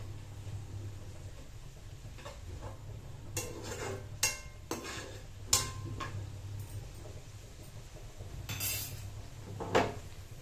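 Tomato and garlic stir-fried in a pan for idli chutney, with intermittent scraping and clinking of a spoon against the pan over a steady low hum, a few sharper knocks standing out.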